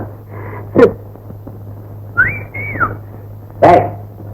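A person whistles, in a police station in a Tamil film scene: a short rising-and-falling two-note whistle in the middle, between sharp, loud bursts at the start and end, over a low steady hum.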